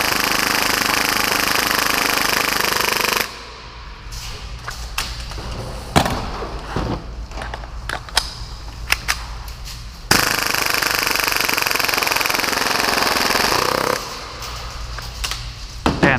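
A full-auto Hi-Capa airsoft pistol fires long bursts at a cardboard box, each a loud, dense buzzing rattle lasting several seconds, separated by a pause filled with scattered thumps and clicks.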